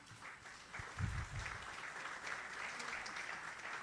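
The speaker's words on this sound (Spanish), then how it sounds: "a la maestra María Teresa Gutiérrez Jiménez, quien pido también les demos un fuerte aplauso." A modest round of applause from a small group at a law faculty anniversary event, moderately distant, with a few louder low thumps near the start.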